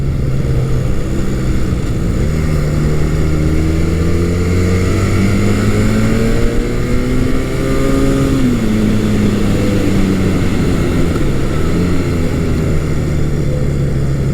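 Honda CB400 T Hawk (400 Super Dream) motorcycle accelerating hard through twisty roads, a steady loud engine drone with rising and falling pitch as it pulls up through the revs, with wind noise throughout and no talking.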